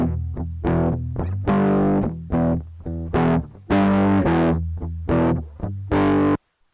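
An electric guitar runs through a distortion plugin in Ableton set to a medium curve, playing a series of gritty plucked notes and short chords with quick decays and brief gaps, close and loud with no talking.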